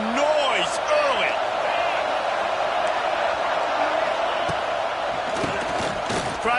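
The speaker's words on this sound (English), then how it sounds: "This crowd bringing the energy and noise early." A stadium crowd at a college football game against ASU keeps up a loud, continuous roar of noise and cheering, with a commentator talking over it throughout.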